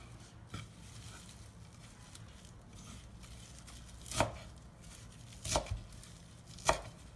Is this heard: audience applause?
no